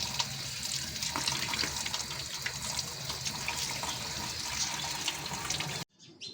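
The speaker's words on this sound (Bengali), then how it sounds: "এটাকে আলাদা আলাদা করে নিয়েই তারপরে ধুতে হবে, নাহলে একসাথে ধোয়া যাচ্ছে না।" A kitchen tap runs steadily while fish are washed under it, giving a continuous close rush of water with faint splashes that stops abruptly near the end, without speech.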